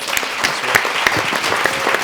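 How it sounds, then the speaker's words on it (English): Audience applause for the panelists at the Food Tank Washington, DC Summit 2016 food security and conflict panel: steady, full crowd clapping throughout, loud and close. "Let's give them a round of applause, please."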